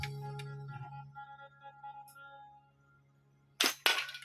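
A newly released two-system slingshot gun fires twice, two sharp, loud snaps close together near the end, after a stretch of faint steady hum and quiet background.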